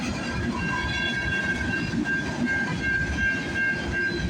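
A CN freight train rolls past on a snowy morning near the Halton subdivision, a steady loud rumble of wheels and cars with a sustained high tone running throughout.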